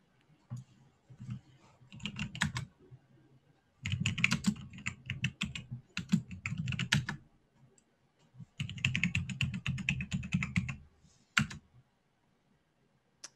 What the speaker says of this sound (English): Look at you typing away just like like a pro already.